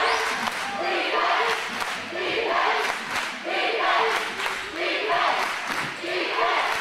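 Basketball crowd in a packed gym chants a rhythmic two-beat defense cheer, loud and repeated, with cheering and a commentator's voice over it.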